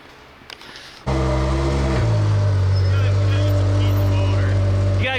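A nitrous-powered Can-Am X3 engine with an open exhaust pipe bursts to life after a quiet moment, then holds a loud, steady idle with a deep rumbling drone.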